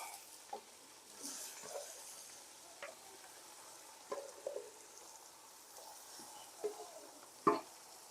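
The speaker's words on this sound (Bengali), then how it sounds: "খাসির মাংসগুলো খুবই সুন্দরভাবে ঢেলে দেবো এখানে" Pieces of goat meat sizzle in a pan with mustard oil: a steady, fairly quiet frying hiss broken by scattered sharp crackles and pops.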